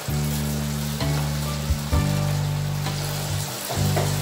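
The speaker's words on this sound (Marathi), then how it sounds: "कडलेल्या तेलामध्ये आता वडे टाकून घ्यायचे आहेत।" Medu vada batter fries in hot oil, a continuous close bubbling sizzle with a steady hiss, broken by brief changes as fresh pieces drop in; no voices.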